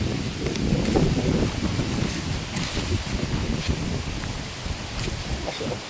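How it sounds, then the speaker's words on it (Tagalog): Steady wind gusts buffeting the microphone with a low rumbling roar throughout, some rustling and faint knocks mixed in, no speech. "Mahangin, naghangin."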